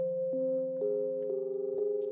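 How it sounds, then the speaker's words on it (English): An Ableton synth arpeggio patch with brush bell hits plays sustained, clean electronic tones that step to new pitches at regular intervals, with soft attacks and a slight wobble building toward the end. "It's a synthy sort of patch. So it's the brush bell hits."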